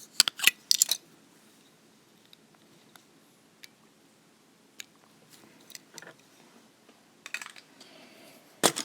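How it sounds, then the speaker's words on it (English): Scissors snip beading thread at close range with a few sharp cuts at the start, then scattered small clicks and handling taps over near silence, ending with another cluster of snips. "I'm going to go ahead and trim my thread."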